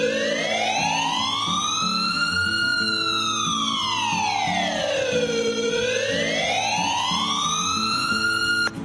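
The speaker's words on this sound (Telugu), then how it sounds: "ఇలా డ్రైవర్ మళ్ళీ అంబులెన్స్ ని స్టార్ట్ చేస్తాడు." An ambulance siren wails loud and steady, its pitch sweeping slowly up and down through one long rise and fall, heard alone without talk.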